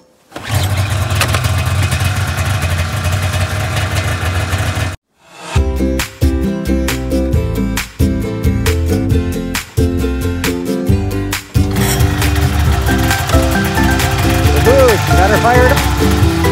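A snowmobile engine cranks and fires up, then runs loud and close at a rough idle, cutting out briefly before catching again with a few uneven surges.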